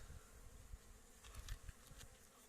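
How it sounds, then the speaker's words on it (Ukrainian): Honeybees buzz as they fly around a hive entrance at an apiary on a warm late-season day, a steady close hum with a few louder passes near the end. "Просто-напросто дивіться, який активний літ, ще бджілки літають"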